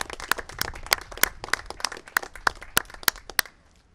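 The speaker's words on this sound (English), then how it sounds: "Let's give them a second round of applause." A small group claps at a press event on storm recovery, with sharp, fairly sparse hand claps in an uneven rhythm over a few seconds before they stop.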